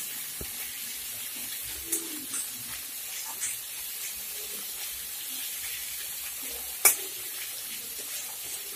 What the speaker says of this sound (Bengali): নেড়ে চেড়ে মশলাগুলো ভালো করে ভেজে নেব।